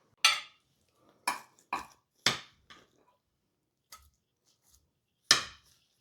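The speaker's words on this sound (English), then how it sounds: "here's the casserole. And it's a little bit golden brown on the edges. And I'm going to scoop it out now" A serving spoon scooping golden-browned shepherd's pie out of a casserole dish: several sharp, close scrapes and knocks against the dish, spaced irregularly with quiet gaps between them.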